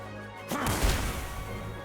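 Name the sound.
gunshot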